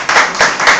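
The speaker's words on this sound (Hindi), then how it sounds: "थैंक यू, इनके लिए जोरदार तालियां।" An audience gives a short, loud burst of applause, with a few strong clapping surges in under a second.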